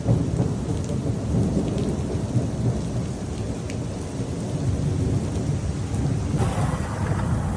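Heavy rain pours steadily in Singapore, a dense continuous roar close by, with thunder rumbling low beneath it throughout and the downpour swelling slightly near the end.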